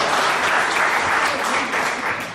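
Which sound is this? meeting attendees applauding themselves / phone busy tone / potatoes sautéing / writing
meeting attendees applauding themselves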